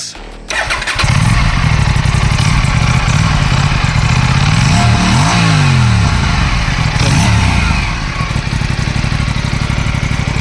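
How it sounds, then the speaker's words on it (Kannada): Aprilia Tuono 457 motorcycle, a 457 cc twin, started up and revved through its exhaust, a loud close throaty roar with rising and falling revs that runs steadily for about ten seconds, with no talking. "ಗಾಡಿ ಎಕ್ಸಾಸ್ಟ್ ನೋಡಿ ಯಾವ ಥರ ಇರೋದಂತ ತೋರಿಸಿ ಬ್ರೋ"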